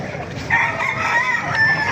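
Rooster crowing close by at a poultry market stall in Baliuag, one loud drawn-out crow filling most of the moment over background murmur.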